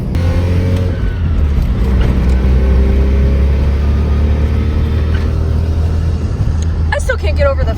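A Mazda RX-7 with a welded differential and a soft clutch drives along, its engine a steady loud low rumble throughout, with brief squeaky clattering near the end.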